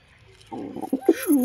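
A male local pigeon coos briefly, a short low burst of rising and falling coos after a quiet start, close and fairly loud.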